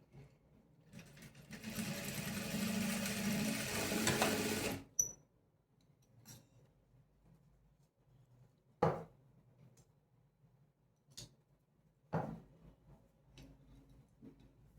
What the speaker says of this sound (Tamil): அதாவது ஸ்ட்ரைட்டாக ஸ்கேல் வச்சு கோடு போட்டு அதுக்கு மேலே ஸ்டிச் பண்ணுங்கள்